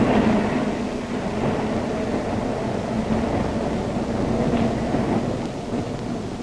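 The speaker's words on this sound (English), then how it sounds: "Ride the elevated train, all the way from the Battery far uptown." A New York elevated train rides uptown from the Battery, giving a constant, loud, roaring rumble with a dull rolling texture and no speech, as on an old documentary film soundtrack.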